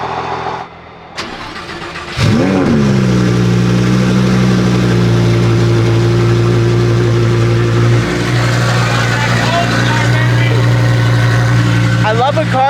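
Lamborghini twin-turbo engine cranks and fires after a brief quiet moment, then settles into a loud, steady close-up idle with a low drone and slight unevenness, a small blip near the end.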